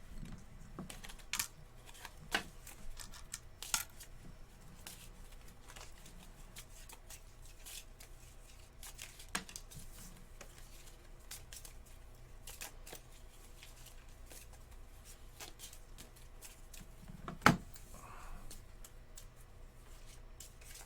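Soft rapid riffling and clicking of KeyForge playing cards being shuffled, close and fairly quiet, with a few sharper taps, no talking.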